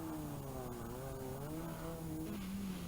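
Big Ferrari rally car at the 1984 Galway Rally, engine droning steadily with pitch rising and falling as it drives, moderately distant and continuous.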